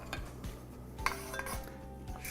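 Red lentils tipped into a cooking pot with a little oil on the stove, giving light clinks and rattles of metal and utensils, close and quiet with a faint background hum.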